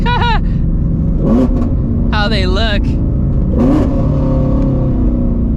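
A deep, constant exhaust drone from inside a 2020 Ford Shelby GT350 while driving, with someone talking loudly over it.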